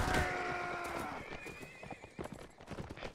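Horse neighing and hooves clopping in Mount & Blade: Warband during mounted horse archery combat: a loud whinny opens, then a steady run of close hoofbeats carries on alone.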